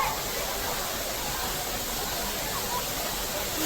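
Waterfall in the Kaimur hills, a steady broadband rush of falling water that holds at an even level throughout with no clear breaks.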